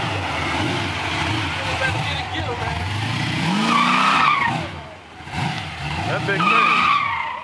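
A candy slime green Chevrolet Cutlass convertible does donuts, its tires skidding and squealing in long repeated sweeps as the engine roars up close, while excited onlookers shout over the noise.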